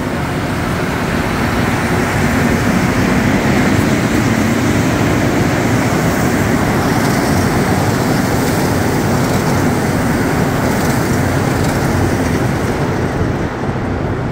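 A Montreal Metro MR73 train pulls away from the station, its loud, steady rumble and rolling roar filling the platform without a break and running unchanged for the whole stretch.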